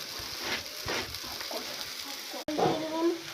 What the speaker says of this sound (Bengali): ফ্যান থেকে চাউমিনটা তুলে এনে চাউমিন দিয়ে দেবেন কড়াইয়ে